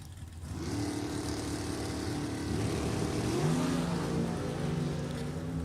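A drag racing dragster on a 2017 TNT chassis with a 615 cubic inch motor, rumbling steadily at moderate distance, its engine tone climbing partway through, with no talking.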